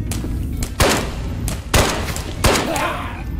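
Pistol fire in Ghosts of Tabor, a run of four sharp shots spaced irregularly under a second apart, punchy and close, with a steady game background beneath.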